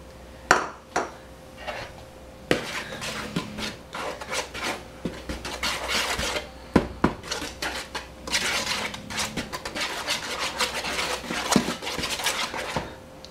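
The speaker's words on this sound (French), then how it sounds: "Dans une grande bowl, mélangez ensemble la farine et les œufs." Flour and eggs are mixed for crepe batter in a large bowl, with repeated scraping and clinking strokes of a utensil against the bowl in irregular bursts and no talking.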